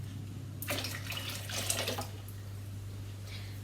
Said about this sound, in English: Just going to pour the excess water away.